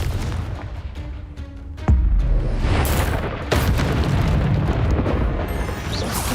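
Confringo blasting spell explodes in a Harry Potter video game, with deep booming bursts, the loudest landing around two seconds in and another near three and a half, over a continuous rumbling game soundscape.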